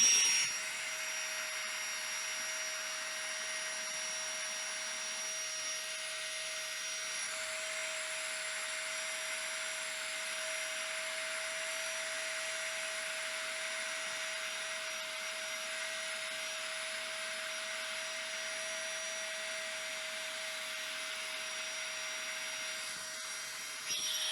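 A GIGA PUMP 2.0 electric portable air pump runs continuously while inflating, giving a steady, even motor drone with a constant whine that holds unchanged for about twenty-four seconds.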